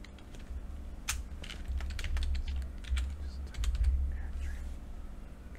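Fingers typing a search for a ReActor face swap node on a computer keyboard in ComfyUI: a close run of quick, irregular key clicks in short bursts over a low steady hum, with no talking.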